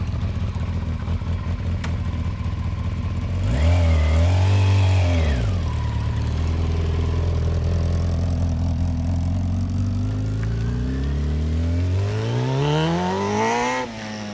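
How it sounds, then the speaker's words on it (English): A Kawasaki ZX600 motorcycle engine runs steadily at close range, with a loud rev around the middle that swells then settles back to a rough idle, and another rising rev near the end. "we started the bike and now we are ready to do a test drive."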